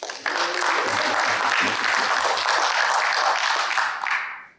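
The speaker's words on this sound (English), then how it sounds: "Please, round of applause, Mr. Marty Abrams." An audience bursts into loud, dense applause to welcome Marty Abrams at a Q&A event, the clapping sustained and even for several seconds before tapering off at the end.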